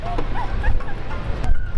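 A very energetic, excitable dog whines and gives a few short yips and barks in quick bursts, close by, with a constant low background rumble.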